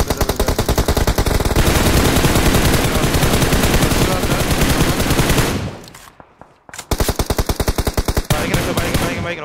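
Dense automatic gunfire in PUBG Mobile during a tournament match, loud rapid bursts running almost continuously, then a brief near-silent gap before the rattling volleys resume.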